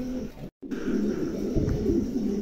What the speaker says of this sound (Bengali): চমৎকার এক জোড়া কবুতর, ভালো লাগলে অবশ্যই সংগ্রহ করবেন।